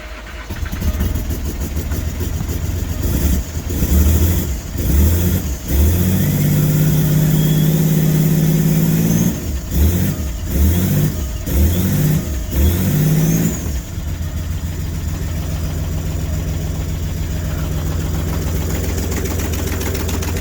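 A Jaguar XF 2.7 engine, refitted and running with no exhaust fitted, idles roughly and loudly, rising and falling through a series of revs before settling back to a steady, throaty idle.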